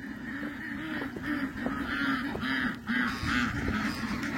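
Hawaiian geese (nene) honk repeatedly at a snowy poultry farm, a series of close, nasal calls in quick rhythm over a soft outdoor background.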